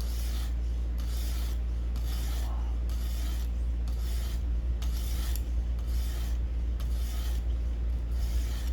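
Knife blade drawn dry across a Xarilk Gen 2 sharpener, rhythmic rasping strokes repeating about once a second, close and fairly quiet over a low steady hum.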